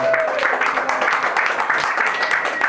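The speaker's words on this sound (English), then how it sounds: "Let's give them all a round of applause" An audience applauds wineries at a big evening event, a dense, steady wash of clapping from a crowd that holds throughout, fairly loud and close.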